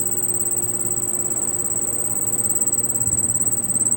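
From the indoor unit of a Carrier split air conditioner comes a constant shrill chirping, much like an insect trilling, above a low hum and faint rattling, steady throughout with no talk.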